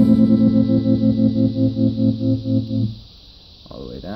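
Envelope-following tremolo pedal with its speed knob turned all the way up, processing a sustained guitar chord into a fast, even amplitude pulse; loud and close, with the chord cutting off near the end and a brief new note after.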